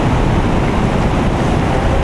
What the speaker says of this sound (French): Il y a une rafale de vent en ce moment.